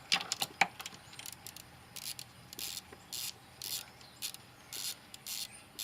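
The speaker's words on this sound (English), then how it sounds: "take your 10mm socket, like I was saying, take these loose" A ratchet with a 10mm socket loosening thermostat housing bolts on a Pontiac G3: short repeated bursts of rapid pawl clicking, quiet and close, in an uneven rhythm after a few sharp initial clicks, with no talk.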